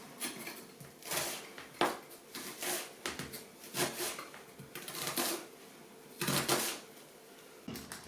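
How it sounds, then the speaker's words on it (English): A knife chops an onion finely on a board, a run of close, crisp irregular cuts with short pauses between bursts, no talking. "and then slice and dice it finely"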